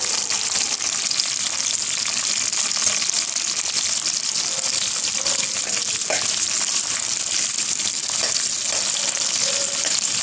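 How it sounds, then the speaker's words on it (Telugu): Green chillies broken in half frying with tamarind in a pan, a loud steady sizzle that runs unbroken from start to finish, close up, with faint stirring scrapes. "కొంచెం సేపు వేగనివ్వాలి,"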